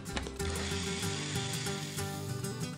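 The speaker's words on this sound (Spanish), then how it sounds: "y lo licuamos." A kitchen blender purées tomatoes, onion pieces, chopped garlic cloves, chipotle chiles and water, giving a steady, loud whirring drone with a brief dip early on and no talk over it.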